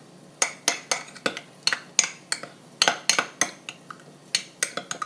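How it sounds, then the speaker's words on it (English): A spoon or utensil repeatedly clinks and scrapes against a bowl while breakfast burrito filling with cheese, avocado and black pepper is stirred, a steady run of sharp close taps about every few tenths of a second, with no talking. "Let's mix that up a little bit."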